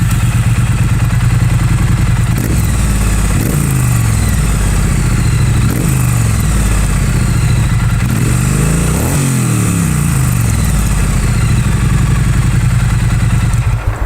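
A Triumph Street Twin motorcycle with a 270-degree firing interval runs loud and close, its twin-cylinder rumble rising and falling through repeated throttle surges and gear changes, alone without talk.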